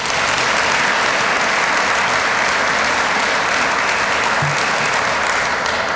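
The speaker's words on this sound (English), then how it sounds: "Let's give them a big round of applause." An audience at a county address gives a big round of applause, a dense, loud, sustained clapping that fills the whole stretch with no talk over it.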